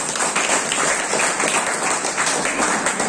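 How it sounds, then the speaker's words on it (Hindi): Steady, dense applause from an audience at a business meeting, a continuous wash of many hands clapping for about three seconds with no voices over it. "आज पहली बार जितने लोग आए हैं उनके लिए जोरदार तालियां"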